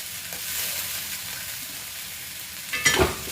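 Jackfruit thoran fries in a pan while being stirred, a steady soft sizzle running throughout with one brief louder scrape of the spoon near the end.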